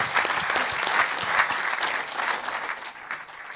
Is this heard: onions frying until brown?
no